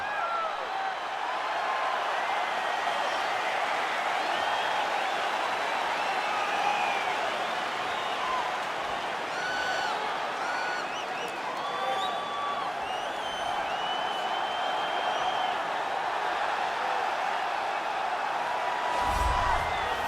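A sold-out arena crowd at a UFC flyweight title event in EA Sports UFC 4, a continuous distant roar of cheering and whistles with scattered whoops, steady and unbroken throughout.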